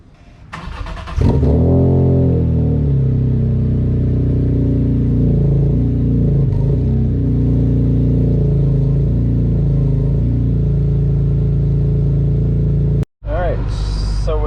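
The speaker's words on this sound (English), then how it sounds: "Let's get a cold start going." A BMW E46 M3 fires up from cold with a sharp starter crank and loud burst, then holds a steady, high, slightly wavering idle for over ten seconds before cutting off briefly and catching again.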